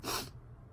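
A single close, abrupt sneeze from a girl bursts out at the very start and fades within a fraction of a second into quiet.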